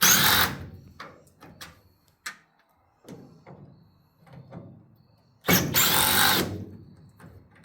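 A power drill backs out the screws holding the rear tail light of a 2007–2013 Chevrolet Silverado or GMC Sierra pickup, with short loud whirring bursts split by quiet gaps and small clicks and clatter between them.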